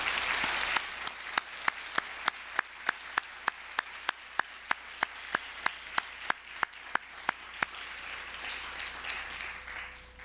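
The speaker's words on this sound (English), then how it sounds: "give a very warm round of applause to all of our honorees tonight" Audience applause for honorees at an awards event, a steady crowd clapping wash with sharp individual claps standing out throughout, fairly even and sustained, fading slightly near the end.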